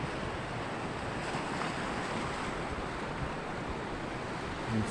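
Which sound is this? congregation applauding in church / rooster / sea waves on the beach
sea waves on the beach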